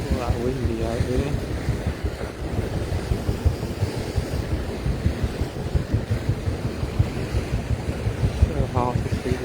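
Wind roars across the open deck of the Waverley paddle steamer at sea off Clacton, Essex, a constant buffeting rumble with gusty microphone thumps, and a voice speaks briefly beneath it.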